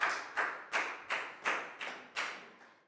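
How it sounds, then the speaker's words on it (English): A short burst of classroom applause for a student during a Year 4 math lesson, heard as about seven distinct, evenly spaced claps close by with no talk. "Big round of applause for Bangpon"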